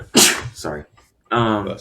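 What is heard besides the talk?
sneeze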